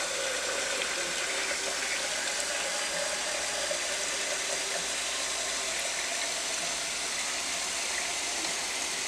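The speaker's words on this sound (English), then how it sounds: "so I'm going to add more water to it" Water poured into homemade tomato sauce for Chico's-style tacos, a steady continuous splashing stream lasting several seconds, fairly close and alone.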